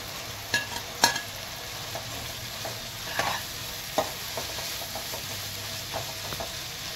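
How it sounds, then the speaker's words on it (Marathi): Bitter gourd pieces fry in a masala with black jaggery and a splash of water, giving a soft continuous sizzle with a few sharp spoon clinks and stirring scrapes. "आता हो मसालो जालो, तितून आता जे करेला हांवें मातशें फ्राय केला पळय ते घालता।"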